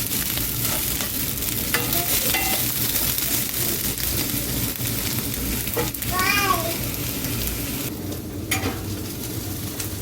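Vegetables for shredded beef fajitas sizzle and fry steadily in a hot skillet, a constant hiss with occasional stirring clinks and scrapes running throughout, close and fairly loud.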